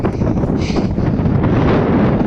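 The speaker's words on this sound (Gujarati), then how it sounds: "હવા ભાઈ બહુ હવા આવે છે" Strong wind buffeting the microphone at the top of a tall tower: a loud, continuous roaring rush that keeps going with no pause and no voices.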